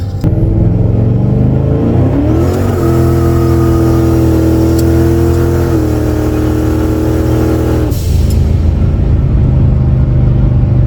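A turbocharged Lincoln Town Car with new clutches and gears on a test drive, its engine rumbling loudly, then revving up and holding high for several seconds before dropping back to a deep idle rumble.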